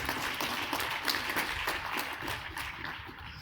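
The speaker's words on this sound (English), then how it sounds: "please let me give them a round of applause" Applause from a conference audience at an annual general meeting, a dense, fairly loud wash of many hands clapping that thins out slightly toward the end, with no talking.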